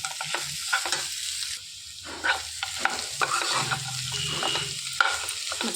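Potatoes being stirred in a pan while frying for aloo fry, scraping spoon strokes and soft sizzling in a steady irregular rhythm, close and moderately loud, no voices.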